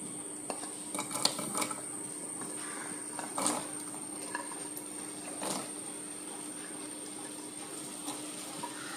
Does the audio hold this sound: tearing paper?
no